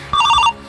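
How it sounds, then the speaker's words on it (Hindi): A mobile phone ringtone sounds once, a short bright electronic warbling tone about half a second long, close and clear. "भाई तेरा फोन किसका आ रहा है?"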